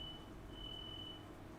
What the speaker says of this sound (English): it might be a smoke alarm.